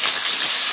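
Oil hisses loudly in a pan while noodles cook in a home kitchen, a brief, steady, close sizzle with no voices.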